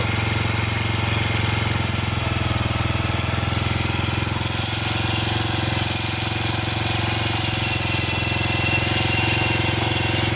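A Honda Wave 100 motorcycle engine running at a steady idle, a loud, close, even low-pitched drone with a rapid rhythmic chug that continues unchanged throughout.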